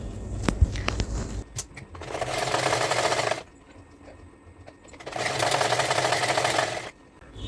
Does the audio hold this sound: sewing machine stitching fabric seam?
yes